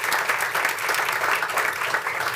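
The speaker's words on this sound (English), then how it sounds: "Let's give a round of applause to our high schools." A crowd applauds steadily, a dense wash of clapping throughout with no break.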